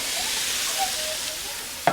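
Jalapenos and other vegetables hit a hot Blackstone griddle, giving a steady close sizzle with a faint stirring scrape and a small clack near the end.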